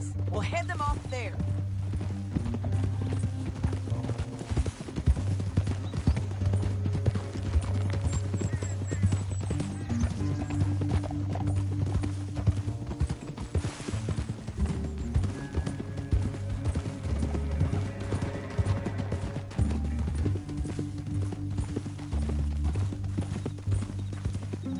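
Horses' hooves clip-clop steadily in the Red Dead Redemption video game, layered over low sustained tones and intermittent character dialogue across roughly twenty-five seconds.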